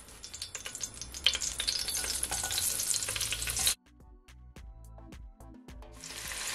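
Chopped onion dropped into hot fish oil in a pot sizzles loudly with crackling spatter, then the frying drops sharply to quieter scattered pops before the sizzle swells again.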